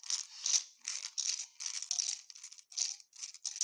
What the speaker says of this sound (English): I will be shuffling the rune crystals